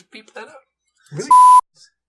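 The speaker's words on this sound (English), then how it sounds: "We get to beep that out" A single steady censor beep lasting about a third of a second cuts sharply into speech, with short bits of talking before and after it.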